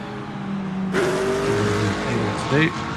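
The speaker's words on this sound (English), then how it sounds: "We have the McLaren of Maciej Kasperczyk. He's now screaming his way down to turn 1." McLaren GT3 race car in a sim racing game at Qatar, its engine screaming through gear changes with rising and falling revs, loud and close, while a commentator talks over it.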